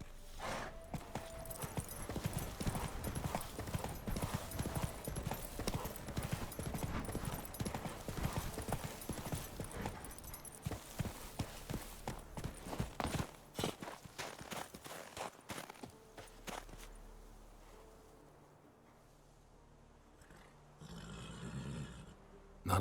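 Hooves of Roach, the horse in The Witcher 3, clip-clop in a fast, loud gallop for the first half, then slow and fade, leaving a quieter stretch with a brief low rumble near the end.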